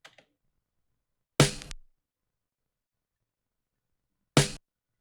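Single snare hits from a pattern in an FL Studio beat: two sharp, bright snare strikes spaced about three seconds apart, each short with a quick decay, standing alone in silence after a faint brief tick at the start.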